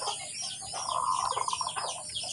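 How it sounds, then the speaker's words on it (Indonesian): A wild zebra dove (perkutut) calls outdoors in a gusty wind, a short run of soft, rhythmic cooing notes of moderate loudness set against steady wind noise. "Ono perkutut liar."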